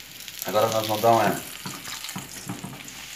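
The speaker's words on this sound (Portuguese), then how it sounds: "nosso ovo está fritando" Egg for a mortadella omelette fries in a pan with a soft, steady sizzle, while someone speaks Portuguese over it.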